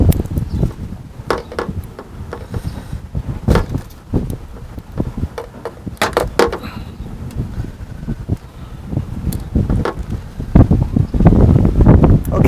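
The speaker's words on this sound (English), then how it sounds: "it's getting real windy out here" Strong outdoor wind buffeting the microphone beside a 2000 Johnson 90 hp outboard motor, a continuous loud rumbling roar with gusty bursts and scattered rustles and knocks, swelling stronger toward the end.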